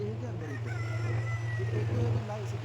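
Chickens of several breeds on a small poultry farm, with a rooster crowing in a drawn-out call over clucking and a constant low hum.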